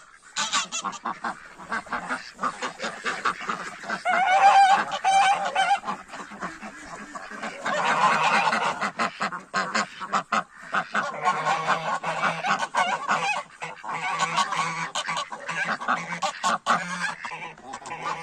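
Geese honking repeatedly and fairly close on a farmyard laying spot, a noisy flock chattering and calling over several seconds with bursts of louder honks.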